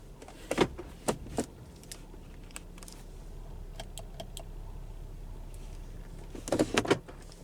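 Inside a 2019 Cadillac CTS Luxury shifted into reverse, the side mirror motors whir and click in short bursts, with a louder cluster of mechanical clicks near the end, quiet cabin hum between.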